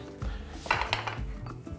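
Several quick rasping scrapes with faint metallic clinks, as hard cheese is rubbed across a grater in short strokes, close by.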